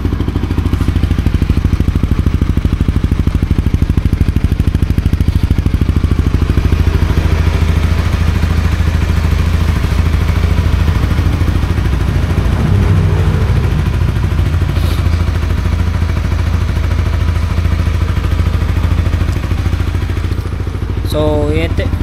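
A Winner X motorcycle fitted with a GTR 150 exhaust pipe idles loudly and steadily up close, a throaty continuous engine note with a brief rev near the end.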